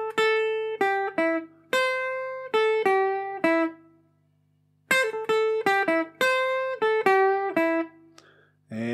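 A rockabilly electric guitar lick in two bright, twangy phrases of quick plucked notes separated by a short pause, played alone and close.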